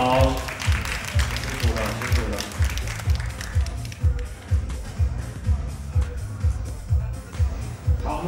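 An audience at a tattoo expo applauds and claps in rhythmic unison, steady repeated beats like a clap-along, fairly loud and sustained, with crowd noise around it.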